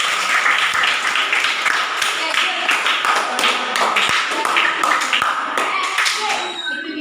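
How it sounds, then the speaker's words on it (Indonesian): Classroom students clapping their hands together, a busy stretch of many overlapping claps with a few sharp individual slaps standing out, fairly loud and near, continuing for several seconds and tapering at the end. "tepuk tangan dulu."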